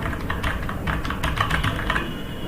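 Quick, light clicking of a computer keyboard while working in MS Word, a brisk run of close keystrokes with no talk.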